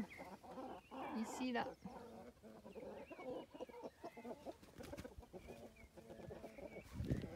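Brahma chickens cluck and murmur steadily close by, with a rooster among them and a few brief words spoken over the flock.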